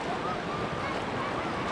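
Waves washing at Khavane beach near Vengurla where a stream meets the sea, a soft continuous surf rumble with light wind, fairly faint and steady.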